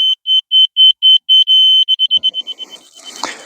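Laser level beeping as a deck frame is shimmed into position: a close, loud train of sharp high beeps that start spaced, then speed up and shorten into rapid pips before fading under rustling and handling noise.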